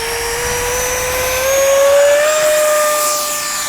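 A small H-King Flycat V2 RC jet flies overhead, its ducted-fan whine rising and falling in pitch as it passes, loud and steady with no voices.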